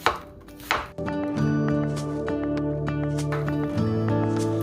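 Knife chopping onions on a board, a steady run of close, crisp cuts with a heavier knock near the start and sustained kitchen hum beneath.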